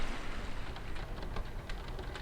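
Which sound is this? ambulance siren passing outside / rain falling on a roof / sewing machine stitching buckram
rain falling on a roof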